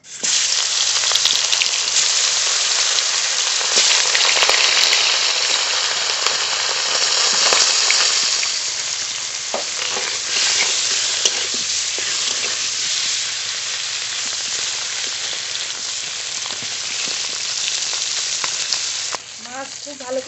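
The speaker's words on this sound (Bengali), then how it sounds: "মাছে লবণ হলুদ মাখিয়ে আগে ভেজে নেব" Tilapia rubbed with salt and turmeric fries in mustard oil in a kadai, a loud, close, dense sizzle that hisses steadily and eases slightly midway, with faint stirring clinks near the end.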